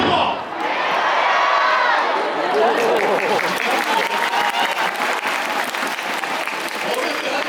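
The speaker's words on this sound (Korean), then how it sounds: "자, 어린이들 박수요" A large baseball stadium crowd applauds loudly, a dense, sustained clapping with a few cheers mixed in.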